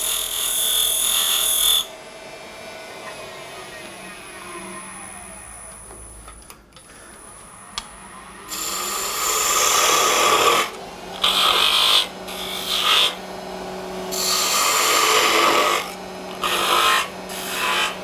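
A tool scrapes the edge of a wooden coffee scoop turning on a lathe, a motor whine under bursts of rasping contact that start and stop in short strokes.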